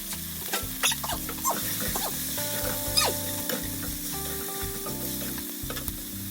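Onions, peppers, mushrooms and zucchini sizzle steadily in a pan while a utensil stirs and scrapes through them, with clicking knocks against the pan, fairly quiet and close with no talking.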